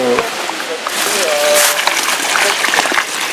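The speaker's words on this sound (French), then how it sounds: "on inonde la gouttière avant pour bien amener de l'eau dans le sol" Water pours and splashes into a furrow in a vegetable garden where carrots are grown, flooding it in a continuous close splatter and trickle while someone talks over it.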